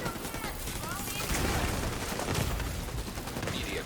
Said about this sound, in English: I'm just like hip firing